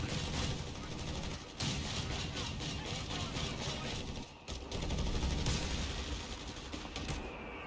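Artillery barrage in the World War II strategy game Company of Heroes 3, a dense, continuous roar of overlapping explosions and gunfire with brief dips, loud throughout with faint game voices underneath.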